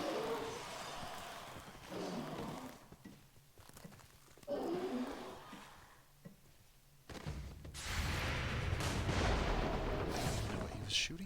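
Gunfire and explosive booms in XCOM 2: War of the Chosen come in rumbling bursts between quieter stretches, ending in a long, heavy roar of fire.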